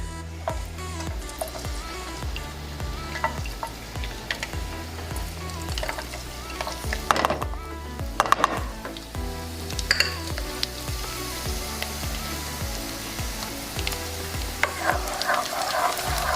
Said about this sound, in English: We're gonna go ahead and start adding our garlic.